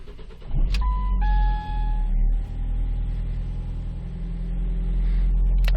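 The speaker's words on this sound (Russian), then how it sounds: "Идет свист ремня." A 2008 facelift Ford Focus with a 1.8 engine cranks and fires on a cold start, then settles into a loud idle while a high, steady belt squeal rises over the engine for about a second before fading.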